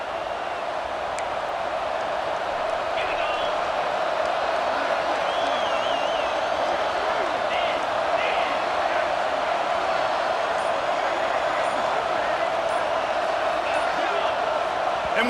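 A college football stadium crowd, here Arizona State against Wake Forest in a video game, roars loudly and steadily throughout, a dense, unbroken wall of noise with faint whistles and whoops rising over it.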